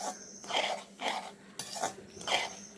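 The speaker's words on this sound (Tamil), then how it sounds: "ரவையெல்லாம் வடிவாக வறுபட்டுட்டுது" Semolina (rava) roasting in a pan for upma, stirred with a utensil in a steady rhythm of scraping sweeps, about five strokes with soft grainy rustle between, close and moderately quiet.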